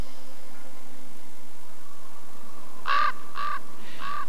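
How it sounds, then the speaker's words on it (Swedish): Common raven cawing in the Canyonlands desert, three harsh calls in a row that are close and loud against a quiet, faintly hissing background. "Korpen är en av dem som klarar att leva här ute."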